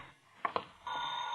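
In a vintage radio suspense drama, two sharp clicks are followed by a sustained ringing tone from a telephone sound effect, steady and fairly clear against a quiet background.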